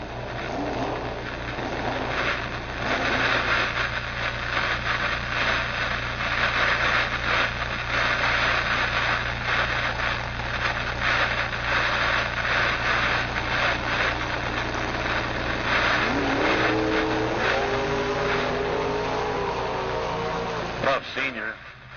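A 1976 Chevy Camaro with a 511 cubic inch big block idles at a drag racing event, its low engine rumble running steadily beneath an announcer's talk, with a rising rev toward the end.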